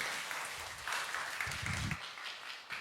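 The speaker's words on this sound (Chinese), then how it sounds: "那同时我们首先把掌声送给徐总" A short burst of scattered clapping from a small crowd, fairly faint and distant, tapering off after a couple of seconds.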